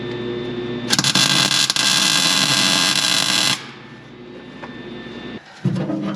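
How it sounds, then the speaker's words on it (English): Tack welding on a custom brake pedal assembly for a 1930 Dodge pickup gives a loud, steady buzzing arc that lasts about three seconds, with a brief second burst after a quiet pause. "So I'm just gonna tack this into place real quick."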